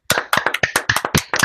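A short round of applause from a small group or audience, with about nine quick, loud, rhythmic bursts of hand claps in a row and no speech over it.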